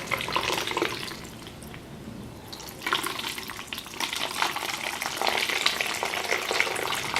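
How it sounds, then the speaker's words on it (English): Water pouring into a homemade hydroponics container, with bursts of splashing and trickling that pause briefly partway through and then resume louder and irregular, close to the microphone. "So we fill this with water."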